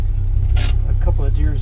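A 1972 Chevy Custom 10 pickup truck engine idles with a steady low rumble throughout, with a short burst of louder broadband noise partway through and a voice speaking briefly near the end.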